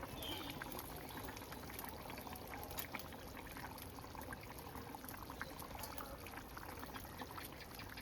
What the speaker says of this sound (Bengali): মাছগুলো দিয়ে দেবো বন্ধুরা, তরকারি ফুটছে